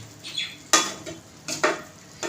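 Aloo palak, a potato and spinach sabzi, being stirred in a pan after salt is added, with several short scraping strokes and soft sizzling bursts close by, no voices.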